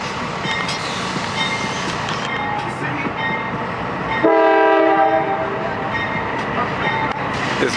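A big freight train rumbles past in Valdosta, Georgia, sounding a loud, sustained multi-tone horn blast midway through the steady roar of the passing railcars.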